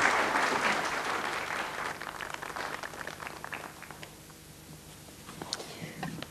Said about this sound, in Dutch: Een applaus graag voor onze eerste gasten